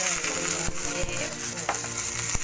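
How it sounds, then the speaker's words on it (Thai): Food sizzles and crackles loudly in a hot pan as Chinese sausage, onion and salted egg are stir-fried, with scraping stir strokes and a brief splash-like burst as water hits the oil. "ระหว่างผัดนะคะเราก็ เติมน้ำลงไปสักเล็กน้อยด้วยนะคะ"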